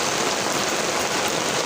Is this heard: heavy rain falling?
yes